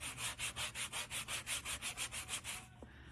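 Rhythmic back-and-forth sanding of polymer clay, about fifteen even strokes close up at a steady pace, then stopping.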